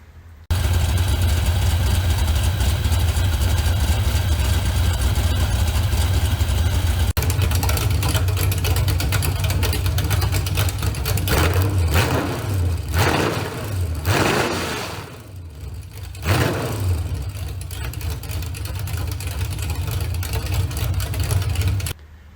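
A mildly built Chevrolet 305 V8 engine idles steadily and loudly, its rumble holding even before a few swells and dips midway, then settling back.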